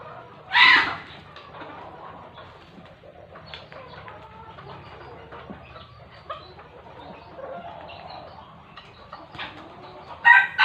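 Backyard chickens cluck and chatter softly at a moderate distance, while a rooster lets out a loud, sharp crow near the start and again near the end.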